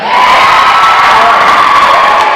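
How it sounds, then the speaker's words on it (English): A large crowd of high school students in Memphis cheers and whoops loudly and continuously, a dense roar of voices close and steady throughout. "Hey, we really appreciate you cheering us on this morning"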